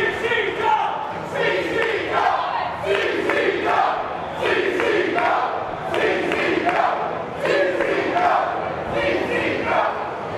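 A capacity crowd at a women's wrestling match roars and cheers in an indoor arena, a dense, continuous wash of shouting voices surging in waves.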